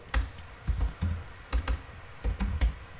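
Keys on a computer keyboard clatter in quick bursts as a terminal command to install Docker is typed, the clicks close and crisp, grouped in short runs with brief pauses between them, and no voices heard.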